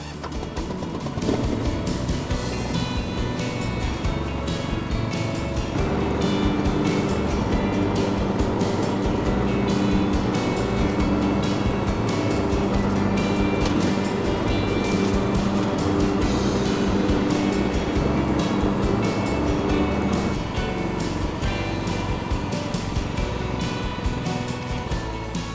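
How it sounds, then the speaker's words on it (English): A Cobra ride-on lawn mower cuts grass in side discharge mode, its engine droning loud and steady throughout with a busy blade and cutting noise, no voices over it. "there you can see the side discharge makes an amazing job of cutting the grass"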